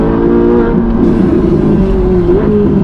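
A Ferrari accelerating hard, heard from inside the car as a loud, steady engine roar whose pitch climbs and shifts through gear changes, close and continuous.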